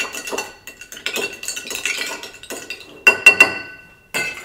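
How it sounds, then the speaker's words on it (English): Ice clinks and rattles against glass as an old fashioned cocktail is stirred until cold, with bursts of bright clinking separated by short pauses and a few sharper taps near the end. "Step number 9 is stir until cold."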